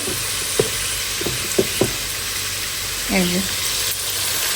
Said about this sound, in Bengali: আর এইদিকে তো চিংড়ি মাছগুলো ফ্রাই হচ্ছে